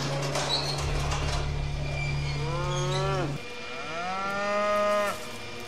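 Cattle lowing in a scene from the 1993 film Jurassic Park: two long, loud moos in a row, the first drawn out over a steady hum, the second rising and then falling off, with no talk.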